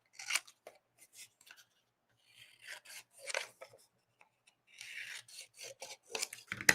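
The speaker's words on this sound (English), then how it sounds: "I'm just going to cut the tabs off." Scissors snipping tabs off a paper folder for a junk journal, a series of short crisp cuts and paper rustles in irregular bursts, close and quiet with pauses between.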